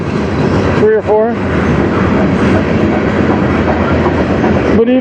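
A CN freight train on the Strathroy Subdivision rolls past close by in a loud, continuous rumble and clatter of wheels on rail, with a brief voice-like tonal sound near the start and again at the very end.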